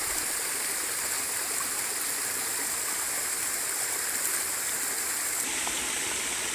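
A waterfall and stream in rural southern Laos pour in a steady, full hiss of rushing water, close and unbroken throughout, with no voices.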